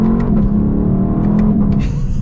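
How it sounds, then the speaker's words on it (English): A 2023 Lexus LC 500 with a naturally aspirated V8 revs hard from inside the car, a loud, rich, continuous engine roar with rising harmonics over about two seconds, no talking. "Gotta love the sound that this naturally aspirated V8 makes."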